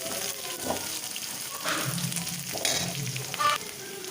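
Onion and curry leaves frying in oil for a crab fry, a soft continuous sizzle with occasional stirring scrapes and light clatter, close and moderately quiet.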